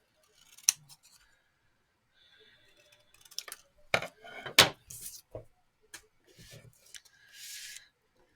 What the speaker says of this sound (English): I'll use scissors actually. Just trim that down.